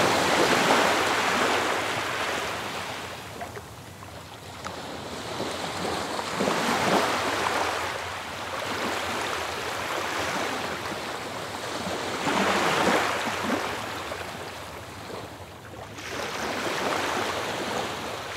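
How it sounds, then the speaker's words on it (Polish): Sea waves roll in and break in slow, regular surges, each swelling to a broad hiss and fading back, steady and fairly close with no voices. "Zauważ rozmiar i intensywność fal na morzu."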